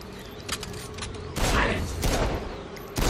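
Gunfire bursts from a pistol in the action video game Saints Row Gat Out of Hell, loud and close, in several dense volleys amid busy game effects.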